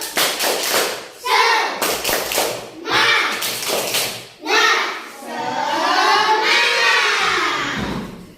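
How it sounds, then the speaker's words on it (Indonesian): Schoolchildren in a classroom clap a rhythmic spirit cheer in several loud bursts of quick, patterned claps and chant together between them. "Kita tepuk semangat."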